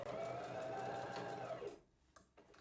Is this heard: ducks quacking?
no